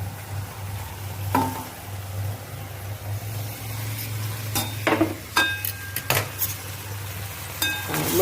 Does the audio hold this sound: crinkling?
no